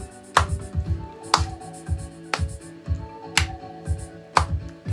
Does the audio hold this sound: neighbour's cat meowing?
no